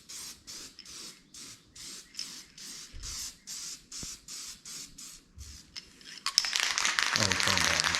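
An aerosol spray can coats upgraded cylinder heads for a Nissan 300ZX NA-to-TT swap. A row of about a dozen short, even hissing bursts is followed by a louder, sustained crackling spray at the end.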